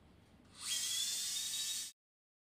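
A high-pitched surgical drill with a 2.8 mm bit whines steadily for over a second while drilling a hole in femur bone, then stops abruptly into silence.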